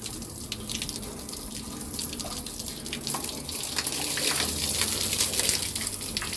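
Water keeps pouring out of a tap that should be off, a steady close hiss and splash that runs without a break and swells slightly toward the end.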